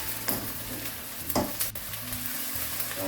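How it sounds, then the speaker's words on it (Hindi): Spoon stirring an aubergine and potato curry in a pan over steady frying sizzle, with a few sharper scraping strokes standing out near and moderately loud. "इसमें हम थोड़ा सा चम्मच चला देंगे इसके बाद,"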